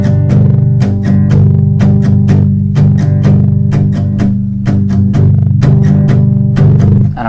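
Palm-muted acoustic guitar played in a bouncing strum pattern, close and loud, with rhythmic percussive chord strokes alternating between muted thumps and brighter accents.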